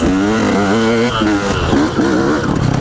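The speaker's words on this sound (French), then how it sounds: "la moto fait un bruit mais totalement différent en fait" A KTM 125 EXC two-stroke dirt bike engine revs loudly and close by, its pitch rising and falling in quick throttle blips, with a voice partly under it.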